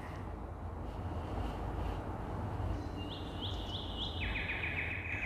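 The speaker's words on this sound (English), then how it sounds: "Ah, the birds at the end." Faint bird chirps sound near the end of a music video, a few brief high tweets over a steady wash of background hiss.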